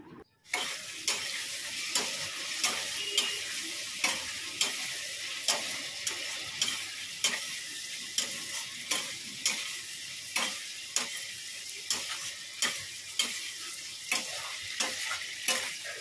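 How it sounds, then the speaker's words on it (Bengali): Spice paste with salt, turmeric, a little Kashmiri chilli powder and ground cumin stirred and frying in a pan, a steady close sizzle broken by regular scraping strokes of a spoon, with no talking. "নুন, হলুদ, একটু অল্প কাশ্মীরি লঙ্কা গুঁড়ো, জিরে গুঁড়ো সব দিয়ে মশলাটা ভালো করে কষাচ্ছে।"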